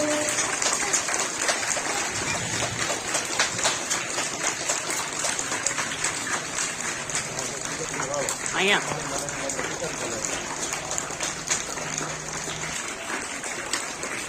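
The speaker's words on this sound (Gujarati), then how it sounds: "આપણે તાળીઓ ચાલુ રાખીશું" Applause at a school admission festival welcoming a local legislator, a steady wash of clapping from the gathered audience that continues throughout with voices mixed in.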